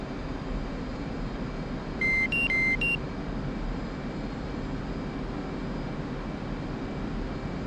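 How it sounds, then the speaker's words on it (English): Aircraft master caution alarm sounding in the cockpit: a short run of alternating electronic tones repeating for about a second over a steady, loud engine and airflow drone. "That's telling us that alarm, that master caution alarm that just went off"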